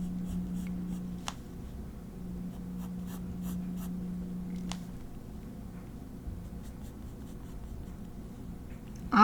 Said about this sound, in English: This pencil also writes on top of the ink